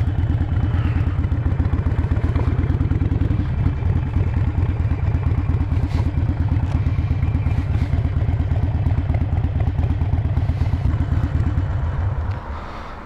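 A motorcycle engine runs at close range while being parked outside a motorcycle shop, a loud, steady, rapid chugging throb that carries on evenly and then eases off right at the end.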